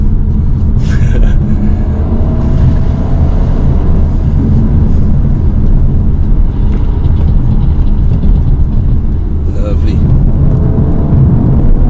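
A 2019 Audi A5 Sportback drives along with a loud, steady road and engine rumble filling the cabin, while a person talks briefly over the continuous noise.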